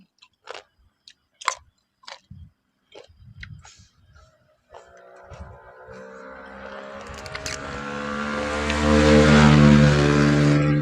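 After scattered close crunching and clicking sounds, a vehicle approaches and grows steadily louder as it rumbles past nearby.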